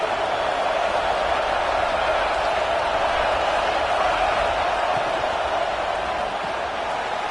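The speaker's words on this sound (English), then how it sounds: "how nice is it to have the home crowd going absolutely bananas?" A home crowd at a college football game roars loudly and continuously, a dense, sustained wall of cheering with no break in intensity.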